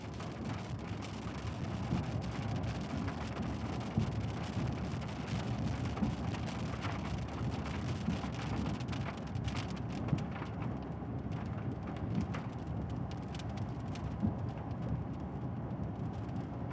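Steady rain falls through a night thunderstorm, a dense continuous hiss with scattered heavier drops and faint distant rumbles, no voices.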